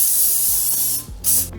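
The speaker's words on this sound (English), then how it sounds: "now I need to spray again so I can get it on the aluminum foil" Cooking spray hisses onto aluminum foil lining a slow cooker, one steady spray burst followed by a short second squirt, close and fairly loud with no speech.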